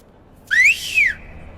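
A person whistles in a courtroom scene of a Hindi-dubbed action movie: one bright two-note whistle, rising then falling, clear and close with no talk over it.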